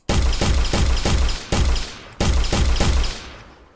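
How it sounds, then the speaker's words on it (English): Gunfire from a top-down zombie shooter built in Unreal Engine 5: loud, rapid bursts of repeated shots in three volleys with brief pauses between them, ending in a fading tail. "apologies for the loud shooting noise"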